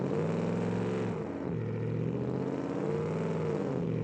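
Naturally aspirated V8 engine of a car in BeamNG, a loud steady roar holding high revs with slight rises and dips, close and alone.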